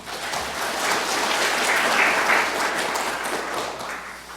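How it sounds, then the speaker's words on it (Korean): Applause from the attendees of a county council session swells into a dense, sustained wash of clapping in an indoor chamber, steady for several seconds before easing slightly, with no talk over it. "이 모든 분들한테 박수 한번 부탁드리겠습니다"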